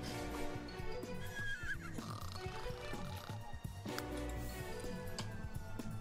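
A horse neighs and whinnies in The Sims 3, heard over soft clip-clop hoof taps and quiet in-game ambience, with a couple of high whinny calls across a few seconds.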